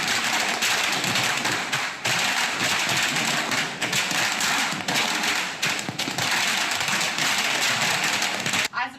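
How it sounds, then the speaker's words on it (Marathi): Firecrackers burst in celebration among residents in Badlapur: a dense, continuous crackle of rapid pops and thuds, with crowd voices mixed into the din throughout. "बदलापुरातील नागरिकांनी फटाके फोडले"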